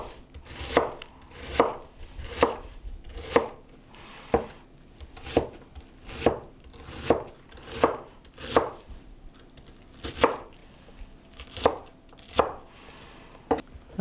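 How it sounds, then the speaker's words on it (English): Onion, peppers, jalapenos and garlic are diced with a knife on a cutting board. Close, crisp chopping strikes fall in a steady, even rhythm of roughly one per second throughout. "Now you're just going to give all these a really good dice."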